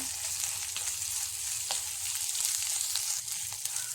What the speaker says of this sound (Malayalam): മൂന്ന് പച്ചമുളക് അരിഞ്ഞതും നാലഞ്ച് കഷ്ണം ചെറിയ വെളുത്തുള്ളി അരിഞ്ഞതും ഇട്ട് കൊടുക്കാം എന്നിട്ട് ഇതൊന്ന് വഴറ്റി കൊടുക്കാം